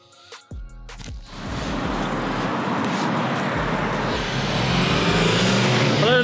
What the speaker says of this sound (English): apologies about the road noise